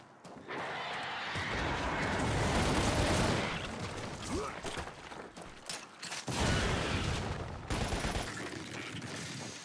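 Loud rumbling blasts and crackling bursts roll in waves, with a couple of abrupt cut-offs and renewed booming, explosions going off in succession in the video game Lost Planet: Extreme Condition.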